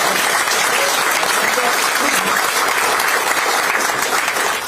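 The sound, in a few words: audience applause at a political party meeting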